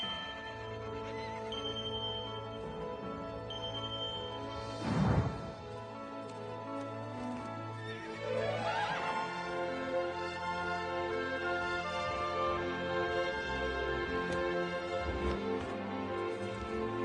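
Horses neighing loudly with a long whinny and hooves clip-clopping, in a Barbie and the Magic of Pegasus animated film scene, layered over steady orchestral music with no talking.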